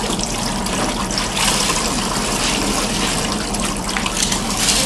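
Fresh rinse water trickles and splashes onto a floor during mopping with a wet vac and double rinse mop setup, a steady, fairly loud continuous wash of water noise for the whole stretch with no voices.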